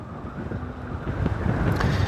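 Steady wind rushes and buffets the microphone with a low rumble, continuous and fairly loud throughout, with no voices, at Kıranardı waterfall park near Erciyes, Turkey.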